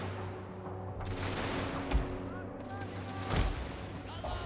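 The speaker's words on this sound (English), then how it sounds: "I want all the cannons to fire canister on him" Cannons fire canister shot in a Russian army battle in a Total War game, a series of close booming reports with scattered gunfire and battle noise, someone talking quietly beneath.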